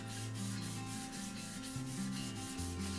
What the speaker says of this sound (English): I took my sandpaper and folded it into thirds on the sheet